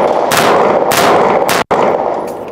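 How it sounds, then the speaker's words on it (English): A submachine gun fires on full auto at an indoor range, emptying its magazine in a loud sustained burst of shots that fills the clip, with a brief gap near the end before firing resumes. "Let's go ahead and put it in full auto."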